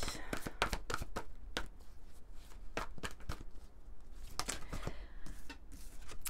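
Tarot cards being shuffled and drawn by hand, a run of close, crisp flicks and slaps at an irregular rhythm, with no talking.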